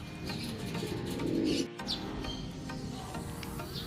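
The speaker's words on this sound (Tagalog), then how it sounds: "O, meron na tayong pangatlong ibon." Soft, low cooing from pigeons nearby, a repeated throaty call against faint outdoor background noise, with a few brief chirps.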